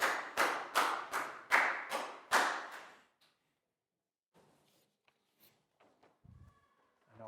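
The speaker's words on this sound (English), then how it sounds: "Big round of applause for Chu," A Year 4 class claps for a pupil in a science lesson, about seven loud, rhythmic claps close by for roughly three seconds, then near silence with faint movement and a short voice at the end.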